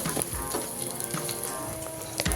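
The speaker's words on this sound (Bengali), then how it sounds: "আমি আলুগুলো শুধু তেলের মধ্যে ভেজে নিচ্ছি, নুন হলুদ ছাড়াই।" Sliced potatoes frying in plain oil without salt or turmeric, a steady soft sizzle with occasional sharper pops and crackles, close up and alone.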